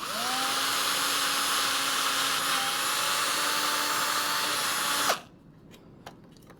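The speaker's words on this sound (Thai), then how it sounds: "ใส่สว่านเจาะ" Power drill boring into a wooden part of a handmade bamboo fish trap, a loud steady whine running near-continuously for about five seconds, then stopping abruptly and leaving quiet room noise with a few faint clicks.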